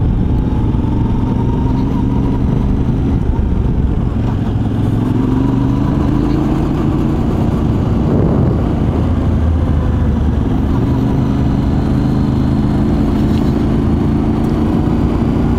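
Yamaha Tenere 700 (XTZ690 T7) motorcycle engine heard steadily from the rider's position on the road, a continuous mid-pitched drone with gentle rises and falls in revs and wind rumble throughout.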